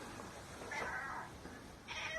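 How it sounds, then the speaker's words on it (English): A cat meows a few times close by, drawn-out calls rising over a quiet room background. "My cat just showed up."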